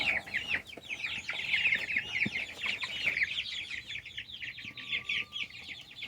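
Cornish cross meat chickens cluck and chatter together in a flock outdoors, a dense continuous jumble of overlapping calls, fairly close and without talk.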